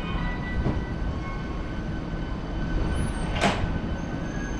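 Commuter train pulling out of Osaka Station on the Osaka Loop Line, a steady rumble of rolling stock with a brief wheel squeal or hiss near the end, close and continuous.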